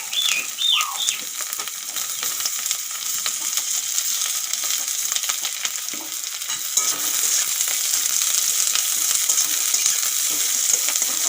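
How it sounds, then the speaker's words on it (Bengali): Continuous sizzling of carrots and onions frying, joined by scraping and clinking from a spatula stirring the pan, growing slightly louder toward the end. "এখন সবজিগুলো ভাজা করব প্রথমে দিয়ে দেবো গাজর আর পেঁয়াজ"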